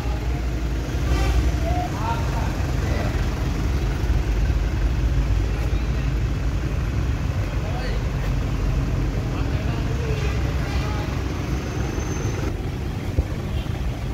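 A 2004 Isuzu Panther Touring manual diesel idles in a showroom, a steady, even low rumble throughout with faint background noise.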